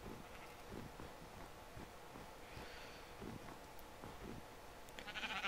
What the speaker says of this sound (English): There's sheep up here!